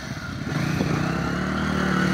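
A motorcycle passes on the road to Devchuli, its engine note rising and holding steady at close range for a couple of seconds, with no talk.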